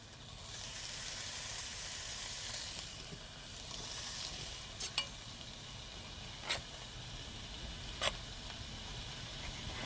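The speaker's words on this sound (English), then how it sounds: "I just got a big old skillet, and if you cut it into little pieces, it's going to cook that much quicker." Food frying in a big skillet for German potato salad, a steady close sizzle with a few brief sharp pops and scrapes of stirring, with no talk.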